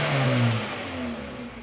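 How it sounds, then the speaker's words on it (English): A 2015 Hyundai Accent engine, running rich and losing acceleration, revs up sharply as the throttle snaps open, climbing in pitch before settling back toward idle, heard close and alone. "If I snap on the throttle"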